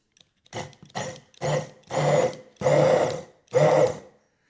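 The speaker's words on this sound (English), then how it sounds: "where we need our hand blender here. So we're going to turn this on high" A motorized whirring hum from a hand blender on high, making mayonnaise, runs in six bursts, each one longer and louder than the last, with short pauses between them.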